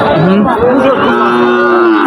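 Cattle lowing at a busy livestock market, with Sahiwal, Gir and Brahman bulls for sale; several long, drawn-out moos overlap one another against a constant background of crowd noise.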